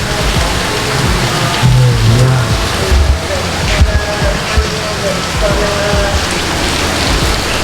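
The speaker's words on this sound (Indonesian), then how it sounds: "Oh, ternyata hujan." Steady rain pouring down outdoors, a dense continuous hiss of drops on surfaces, with a person speaking briefly over it.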